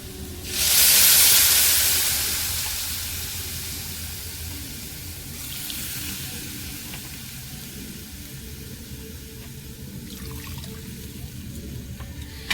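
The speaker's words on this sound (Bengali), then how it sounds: "এবারে আমি জল দেব পরিমাণ মতো মানে আমি 3 বাটি জল দেব" Water is poured into a hot pan while cooking a quick vegetarian pakora-style dish. A loud rushing, hissing burst opens the clip, then fades into a softer steady steam hiss that lingers to the end.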